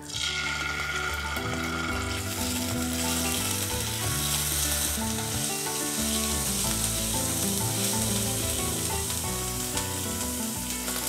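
Ginger-garlic paste sizzles in hot oil in a kadai, with cinnamon already in the pan, for restaurant-style kadai paneer; a steady, loud frying hiss runs throughout, with some clinking and stirring and no talk.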